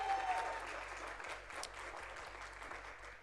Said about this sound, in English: yeah, let's clap it up. We can clap it up.